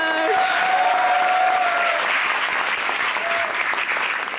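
A studio audience claps steadily for a guest's entrance on a talk show, a dense, loud wash of applause lasting throughout, with a faint voice underneath.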